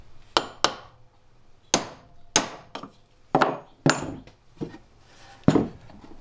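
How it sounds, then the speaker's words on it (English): Sharp metallic hammer blows striking a punch to knock a bearing out of an old dirt bike, about ten irregular hits with short pauses between, close and loud with no talking. "We use the hammer and punch method."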